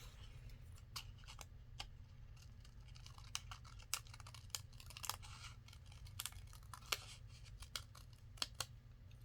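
Scissors trimming the top of a paper envelope for a journal, with a series of small, crisp snips spaced irregularly over a quiet background.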